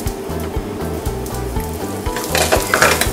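Garlic and whole cumin seeds fry in hot olive oil, a steady close sizzle with rhythmic low clatter from stirring, growing louder and brighter toward the end.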